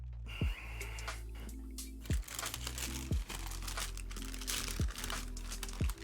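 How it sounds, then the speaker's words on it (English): Plastic or paper crinkles at close range through the whole stretch, with recurring sharp crunchy handling bursts and a low tonal hum beneath during a home art session. "Sorry for the crinkling."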